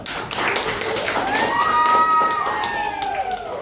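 A classroom of students claps in a quick, dense burst that runs for a few seconds at close range, with a bright whistle-like tone sliding across the middle of the clapping.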